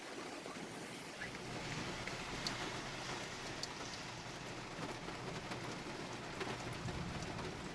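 Heavy thunderstorm rain in Littleton, Colorado pours in a dense, continuous hiss of drops hitting surfaces, loud and steady for the whole stretch with no clear thunder.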